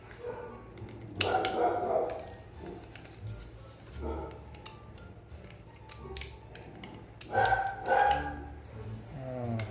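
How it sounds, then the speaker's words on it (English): A dog barks in short bursts, a couple of barks early, another a few seconds later and a louder pair near the end, over a quiet indoor background with faint ticking. "The lovely dog barks."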